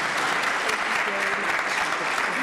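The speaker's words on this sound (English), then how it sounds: "let us give them a big round of applause" Sustained applause from a conference audience fills the room as panelists on aviation workforce challenges return to their seats, a dense, steady wash of clapping at even loudness throughout.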